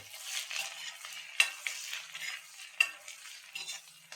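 Crushed garlic with red and green chilli pieces frying and being stirred in a pan, giving a steady close sizzle with scraping stir strokes and two sharp clinks of the spoon against the pan.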